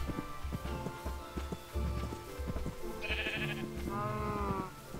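Blocky Minecraft sheep bleat in a survival game, several wavering cries layered over busy game sounds and footsteps with a brief high chime midway, fairly loud throughout.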